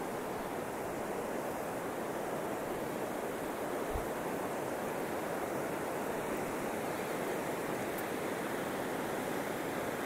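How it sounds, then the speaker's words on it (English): River rapids swollen by days of heavy rain rush in a steady, loud, unbroken roar, close by and without pause, with no voices. "The rapids."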